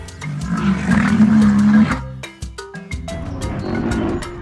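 A rhinoceros lets out a deep, rumbling bellow lasting nearly two seconds, loud and close. A plucky musical cue follows right after.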